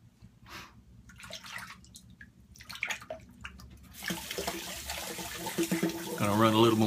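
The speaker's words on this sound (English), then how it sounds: "Gonna run a little more hot water." Hot water runs from a tap during shaving, a steady rushing flow that grows louder and fuller midway, with faint sounds from the person in the background.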